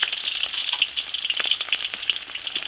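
Ginger and garlic sizzle in hot oil in an iron wok, a dense, bright crackling hiss with scattered sharp pops, steady and close throughout.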